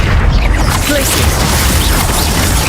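Glacius ice spell cast in Hogwarts Legacy, a loud dense blast of crackling, rumbling noise that fills the whole moment without a break, heavy in the low end with a hissing wash above it.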